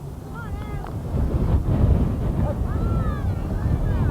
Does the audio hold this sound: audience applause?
no